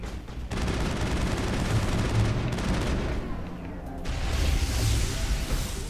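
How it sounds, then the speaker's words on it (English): In the Mass Effect video game, a big explosion bursts amid rapid gunfire, dense continuous combat noise filling the scene with a booming swell near the end. "That was a big explosion."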